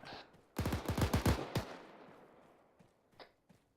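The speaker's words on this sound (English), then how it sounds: "I'm hearing gunshots in and out." Gunshots in a military video game: a rapid burst of loud automatic fire of about ten shots, then a single report with a long fading echo and two faint distant shots.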